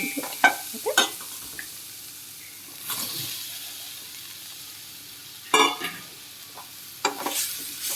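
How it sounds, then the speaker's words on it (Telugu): A spoon stirs fried raw banana pieces into masala in a pan, making a few scattered scrapes and clanks over a soft, low sizzle, with quiet gaps between the bursts. There is no talking. "ఇవన్నీ బాగా కలిసేట్టుగా కలుపుకొని"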